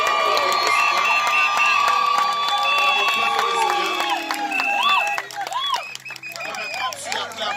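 Wedding guests at a lavish reception at the Manoirs des Cygnes cheer, shout and applaud in a loud, sustained crowd roar with high ululating voices and clapping, continuous and close throughout.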